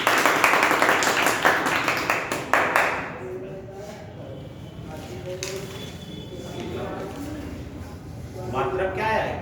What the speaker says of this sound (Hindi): ताली बजाओ यार जल्दी।